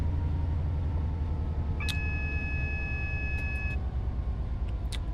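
A train in a simulator game rumbles steadily at low pitch with a brief high metallic squeal or tone partway through, continuous and moderately loud throughout.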